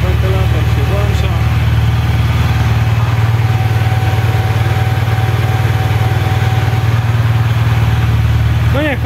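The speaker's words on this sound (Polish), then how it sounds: "O, wentylator się włącza." A Honda VFR1200 Crosstourer motorcycle engine idles steadily up close as its radiator cooling fan switches on and whirs with a constant hum.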